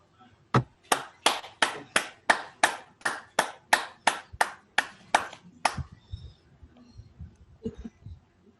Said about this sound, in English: I will ask the audience to give our director a warm round of applause